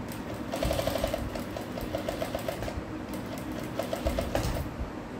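A sewing machine stitches a blouse in steady rapid bursts, running loud and close with short pauses between runs.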